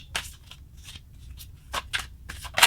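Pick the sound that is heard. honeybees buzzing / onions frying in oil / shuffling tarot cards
shuffling tarot cards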